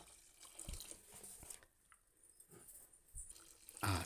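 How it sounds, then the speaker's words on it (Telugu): Water is poured into a pot of dal for village-style pappu charu, a soft splashing trickle in short uneven bursts, faint and close, with a brief louder splash near the end. "ఇప్పుడు మనము ఇందులోకి వాటర్ కూడా యాడ్ చేద్దాము. మనము సరిపోను వాటర్ పోసుకోవాలండి."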